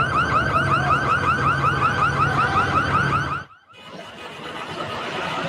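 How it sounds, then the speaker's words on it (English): A car alarm blares during a nighttime jewelry store break-in, cycling through loud rising chirps that repeat steadily, then cut out briefly before a more muffled alarm tone and street noise carry on. "You can hear the alarms going off as a crowd of people broke into a jewelry store on 6th and Broadway just before"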